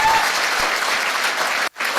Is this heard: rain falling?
no